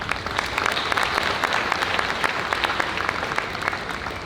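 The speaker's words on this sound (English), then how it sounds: "So give these buyers a good round of applause." Sustained audience applause for livestock buyers at the Missouri State Fair Sale of Champions, a dense steady patter of many hands clapping in a large venue, carrying evenly throughout with no voices over it.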